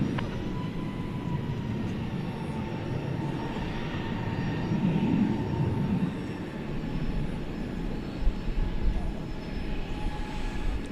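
Qantas heavy jet departing DFW airport at night, a distant broad rumbling jet roar that swells slightly midway and holds steady, heard from outdoors without talk.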